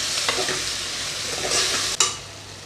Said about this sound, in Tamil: இதை எல்லாத்தையும் எண்ணெயில் வந்து வதக்கிடலாம்